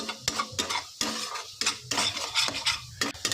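Spice masala for a bhetki fish curry being sautéed in a pan, with sharp metal spatula clacks and scrapes at irregular intervals over a light sizzle, close by and without talk.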